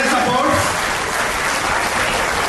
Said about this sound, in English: every one of you clap for your parents